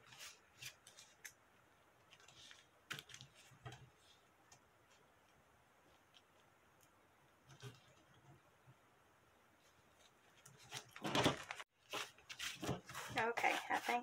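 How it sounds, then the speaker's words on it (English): Small scissors snip jump threads from machine embroidery on a towel, giving faint, scattered clicks and snips close by, growing busier toward the end over quiet handling noise. "Now I am trimming the jump threads."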